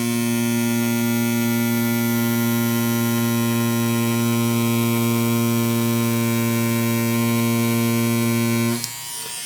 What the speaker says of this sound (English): It has a badass cordless motor in it.